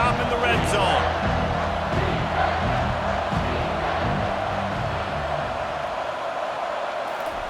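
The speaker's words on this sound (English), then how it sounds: "The crowd getting behind this defense as they try to get a stop in the red zone." A football stadium crowd roars steadily for the defense during a red-zone stand in an Oklahoma Sooners versus Tennessee Volunteers game, a dense, loud wash of cheering that holds for several seconds before easing slightly.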